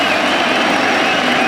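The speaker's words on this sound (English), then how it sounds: "Standing ovation." Cricket crowd at an England v India Test match rising for a standing ovation as a batsman reaches 100, a steady wash of applause and murmur filling the ground at even loudness throughout.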